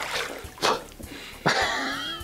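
A released zander thrashing at the surface after catch-and-release jig fishing, two sharp close splashes about a second apart, the second spraying longer, with soft handling noise in between.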